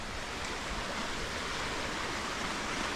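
Water in a stream beside a hill road rushes steadily in a dense, unbroken wash of sound. It is moderately loud and even throughout, with no voices.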